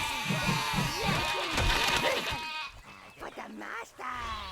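Sheep in the video game Overlord bleat in a quick run of wavering cries, loud and close at first, then thinning into scattered fainter calls.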